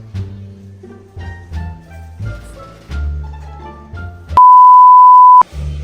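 A new Android phone during setup gives a short run of melodic electronic tones, then one loud, steady beep lasting about a second, followed by a last brief tone.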